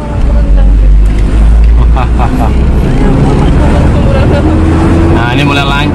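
A car climbs a steep hill in stop-and-go traffic in second gear, its engine droning loud and low with a rising strain, while people talk over it.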